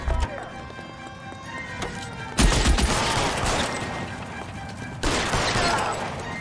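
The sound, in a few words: gunfire in video game L.A. Noire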